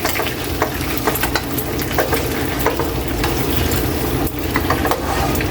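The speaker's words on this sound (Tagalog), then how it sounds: "Ready na yung kawali natin Kaylee. Lagay na natin yung pinapa-fried." Fried pork pata for adobo sizzling loudly in a hot pan, a dense continuous crackle with small pops and occasional utensil taps, close up and without talk.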